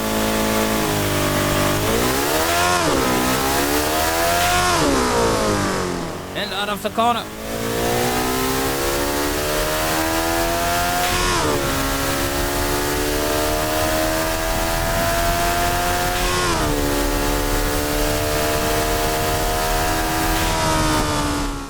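A kei car engine in the Automation game revs and shifts through gears on a test track, a loud, continuous drone whose pitch climbs and drops repeatedly, with someone talking over it.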